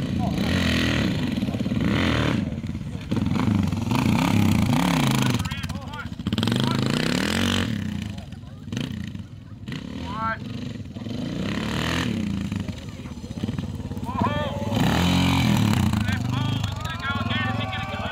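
An adventure motorcycle revs and roars during a race, the engine rising and falling loudly and close, with people shouting and talking over it throughout.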